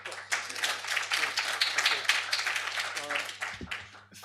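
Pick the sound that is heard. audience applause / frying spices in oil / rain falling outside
audience applause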